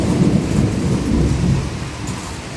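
Thunder rumbles loudly and close during a June 2024 thunderstorm in Salou, a dense low roll mixed with the steady hiss of rain, continuous for a few seconds without voices.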